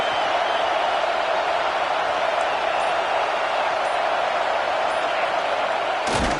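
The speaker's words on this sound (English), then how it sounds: "Listen to this crowd." A stadium crowd roars in the NCAA 26 college football video game as a continuous, even wash of noise. A brief thump comes right at the end.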